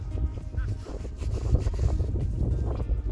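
Strong wind buffets the microphone on a beach, giving a constant loud, low rumbling roar with gusty swells and no clear voices.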